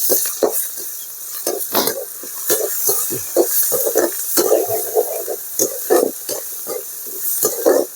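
Onion and spices sizzle in a pan for bottle gourd rasam while being stirred, with steady frying hiss and repeated scraping clinks of the spoon against the pan, close and loud.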